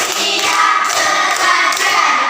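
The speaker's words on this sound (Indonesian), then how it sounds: "Tepuk satu. Tepuk dua. Tepuk tiga. Tepuk empat. Tepuk lima." Many hands clap together in a counted Indonesian clapping game (tepuk), a dense, steady wash of applause-like claps that stays at one loudness throughout.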